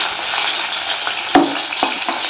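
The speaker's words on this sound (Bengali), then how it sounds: "আর এই যে মাছও ভাজা হচ্ছে এখন একটা পেটিটা" A piece of fish belly fries in hot oil in a home kitchen, a steady close sizzle with a couple of brief sharper spits and stirring bumps.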